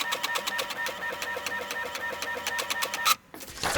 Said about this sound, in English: We'll print off all the templates to cut out the sheet metal parts